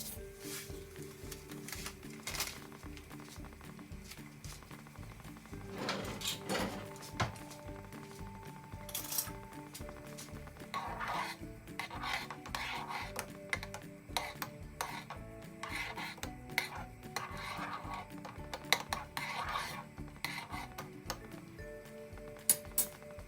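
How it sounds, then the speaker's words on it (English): A spoon stirs ginataang bilo-bilo with tapioca pearls in a pot, giving irregular scraping and clinking against the metal sides, fairly quiet and steady with no voices. "And stir this continuously for about 10 to 15 minutes"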